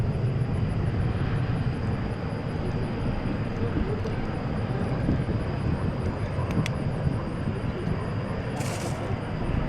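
An airliner in oneworld special livery takes off at DFW International Airport, giving a steady, loud, broadband jet roar that fills the whole stretch, with wind buffeting the microphone and a voice speaking over it.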